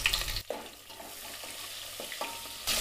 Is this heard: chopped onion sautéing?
yes